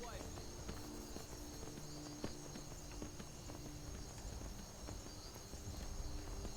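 Horse hooves clop at a steady walking pace in the Skyrim video game, faint rhythmic thuds under a dense ambient game soundscape, with someone talking over them.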